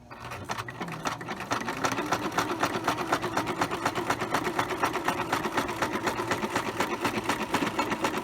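A sewing machine stitches a Christmas stocking, running in a fast, even rhythmic whir after a brief start-up, close and steady throughout with no talk over it.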